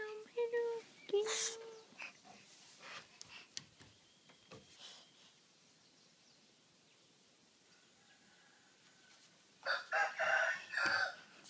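Chickens and a rooster in a yard, with sharp bursts of crowing and clucking near the start and again toward the end, separated by a quieter stretch of faint background.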